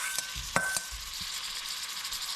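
Shrimp hit a hot pan for an okra and shrimp curry, setting off a steady close sizzle with a few sharp clinks and pops near the start, then an even hiss with no talking.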